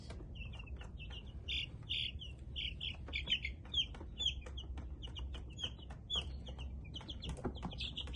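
Black and Buff Minorca chickens cluck and chirp repeatedly in short bursts over a low, steady background rumble, fairly close by.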